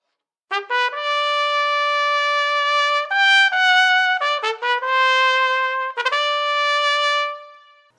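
A solo trumpet plays a short melodic phrase of several sustained notes, clear and close, with a brief breath gap before the final note fades.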